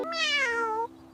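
A cartoon cat's meow in a children's farm-animal nursery song: one drawn-out, sliding sung meow lasting under a second over a steady musical backing tone, loud and close.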